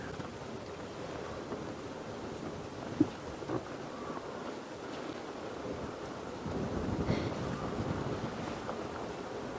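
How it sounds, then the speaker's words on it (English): Steady wind rushes and buffets the microphone during an early-morning safari drive, a continuous broadband roar that swells slightly toward the end, with no talk. "Now the wind's picking up quite a bit"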